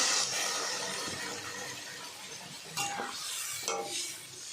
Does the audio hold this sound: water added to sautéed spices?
yes